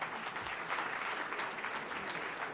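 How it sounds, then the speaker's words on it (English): An audience at a National Council gathering gives broad, even applause that carries on steadily throughout, fairly faint and distant, with no voices over it. "You can applaud all you want."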